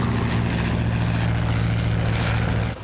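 A propeller airplane engine in flight gives a loud, steady droning roar with a low throbbing hum, held close and unbroken throughout before cutting off abruptly at the very end, with no voices.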